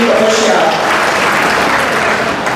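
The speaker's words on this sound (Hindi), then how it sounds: "तो इस चीज के लिए भी हमको ताली बजानी चाहिए" Audience applause at a religious gathering with a deputy chief minister present, as a steady dense wash of clapping lasting the whole moment, fairly loud and close, with no clear pause.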